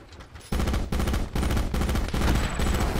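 Loud bursts of automatic gunfire from the video game Call of Duty: Black Ops 4, several rapid volleys starting about half a second in and continuing in close succession with short gaps.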